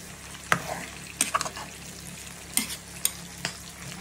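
Food fries in a pan with a soft continuous sizzle while a utensil stirs it, scraping and knocking against the pan in several sharp, irregular strokes, close and moderately loud, with no talk.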